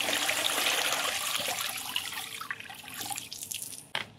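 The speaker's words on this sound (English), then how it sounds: "So I'm just going to let that drip dry while I prepare the other solution." Water drips and trickles steadily from a rinsed fallow deer hide hung to drip dry. The patter is soft and close, thins out toward the end, and no one speaks.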